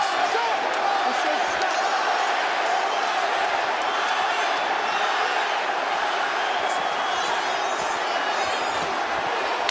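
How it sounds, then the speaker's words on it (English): A boxing arena crowd stands and roars through a late round of Devin Haney vs Ryan Garcia, a constant broad cheer with a commentator talking over it. "The crowd is on their feet as they have been for the past few rounds."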